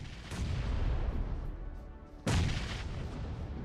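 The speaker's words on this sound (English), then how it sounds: "Greek Storm gets a nade on Unknown" A grenade goes off in PUBG Mobile during an esports battle royale match, a sudden loud boom cutting through steady low rumbling game noise, with a softer blast just before it.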